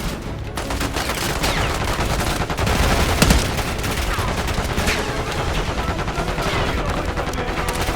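Sustained gunfire from the Black Ops 6 campaign level "Most Wanted", dense overlapping shots and bursts running loudly for the whole stretch with a heavier blast near the middle.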